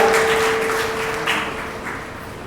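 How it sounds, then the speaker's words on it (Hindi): Theatre audience applause for a cast member after a stage play, a broad, steady wash of clapping that slowly tapers off. "अभिनव सिंह के लिए आप लोग तालियां बजाइए"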